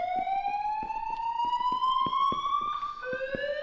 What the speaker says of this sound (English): I got these little alarm horns here, and then I am spawning the sound on those instead of the light mesh